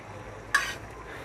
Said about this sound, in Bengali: এখন এটাতে ডিম দিয়ে দেই